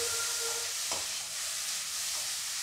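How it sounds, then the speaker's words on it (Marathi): Carrot halwa roasting in a pan over low heat gives a steady, soft sizzling hiss, with a brief scrape of stirring near the middle; no talking. "आता हे आपल्याला छान मंद हीटवर भाजून घ्यायचं आहे।"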